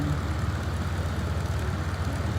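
A small propeller plane taxis in Microsoft Flight Simulator 2024, its piston engine a continuous low, throbbing drone with a steady pulsing rumble, close and unbroken, with no talk over it.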